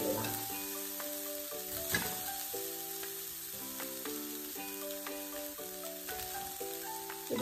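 Coconut and cooked rice being fried and stirred in a pan for coconut rice, giving a steady, close sizzle with scraping strokes throughout, while a background melody with sustained tones plays underneath.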